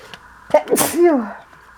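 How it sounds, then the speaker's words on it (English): A person sneezes twice in quick succession, close and fairly loud, the second sneeze longer with a falling, voiced tail. "Sorry about them sneezes."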